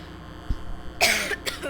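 A person coughs sharply once or twice, a short harsh burst over a quiet room hum.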